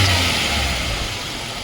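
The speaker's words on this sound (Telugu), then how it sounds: "సింగిల్ సెల్ఫ్లో బండి స్టార్ట్ అవుతుంది. మనకి ఎక్కడ హెవీగా లేదు, ఎక్కడ రస్టింగ్ అనేది లేదు, అసలు సౌండ్ అనేది లేదు. Very silent engine." A 2019 Hyundai Xcent petrol car engine idles with a steady, even low hum that stays constant throughout, with no talking.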